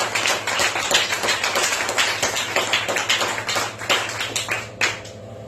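A church congregation claps together to acclaim Jesus during a teaching service, a dense, loud, steady run of many hands beating in rough rhythm, close and continuous for several seconds before thinning out at the end.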